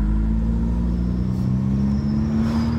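A VW Golf GTI engine revs hard with a deep, loud aftermarket exhaust rumble and steady drone, close up, with no talking.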